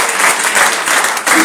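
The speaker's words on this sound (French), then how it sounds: "Acclamez pour tous ces équelles qui sont là. Acclamez pour eux." A church congregation claps together in a dense, steady burst of applause at a Sunday service, loud and close with no gaps.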